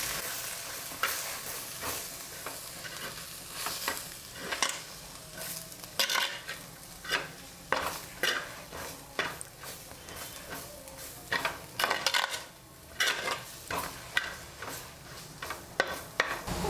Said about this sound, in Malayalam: നല്ലതുപോലെ ഇളക്കി കൊടുക്കണം.